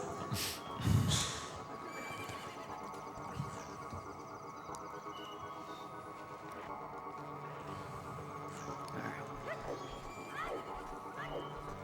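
Epona the horse gives a loud whinny near the start in Majora's Mask, then the game's soft ambient music and a few faint hoof clops and distant cries carry on, with no talking.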